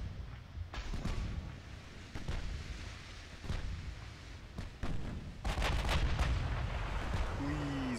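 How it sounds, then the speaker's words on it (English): Heavy naval guns, including 16-inch battlecruiser main batteries, firing in the Ultimate Admiral Dreadnoughts warship game, with several deep booming blasts at irregular intervals over a constant low rumble, the last shots coming as a denser, louder roar. "our 16-inch guns are hitting"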